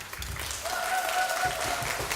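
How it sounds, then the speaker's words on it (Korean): Audience applause at a children's composition recital in a concert hall, a dense, steady wash of clapping filling the room, with a faint sustained tone sounding over it midway. "큰 박수 주십시오"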